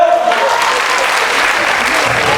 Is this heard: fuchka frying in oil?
no